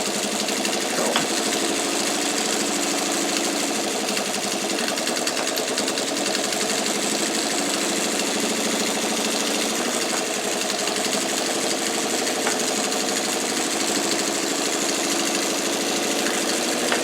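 A sewing machine top-stitching a pillowcase runs as a fast, steady mechanical rattle and hum, close and continuous for the whole stretch, with no talking.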